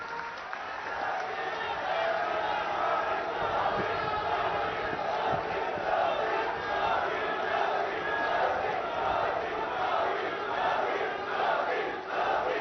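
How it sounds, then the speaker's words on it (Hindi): A large audience at a hospital and cancer research centre inauguration in Mohali, Punjab, applauds the Prime Minister. The clapping and crowd noise form a steady, muffled roar that lasts about thirteen seconds, with a murmur of voices mixed in. "जोरदार तालियों के बीच"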